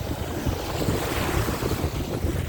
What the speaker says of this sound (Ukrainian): Грибівський пляж 22 червня.